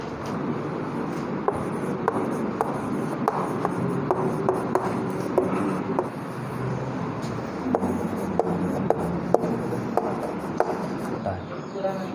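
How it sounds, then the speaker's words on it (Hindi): Handwriting on a board or paper during a Hindi biology lesson, with soft scratchy strokes and small taps over a steady background hum, while a teacher speaks in between. "चलो इसको लिखते हैं हम।"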